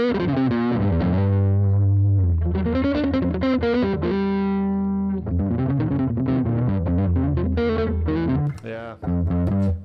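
Electric guitar through the bridge pickup with the tone knob rolled back slightly and some overdrive, playing a melodic run of sustained notes and bends, loud and close with no speech.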